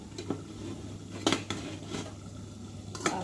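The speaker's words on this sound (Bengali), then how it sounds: "চলো এখন ঢাকাটা খুলি" A cooking pot of chicken and water gets its tight lid worked free with a few sharp metallic clanks and scrapes, each brief and close. A faint low hum sits underneath, with no talking.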